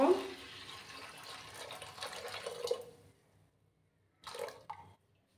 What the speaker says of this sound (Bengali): এবার আমি এটার মধ্যে আমি গরম জল দিয়ে দেব।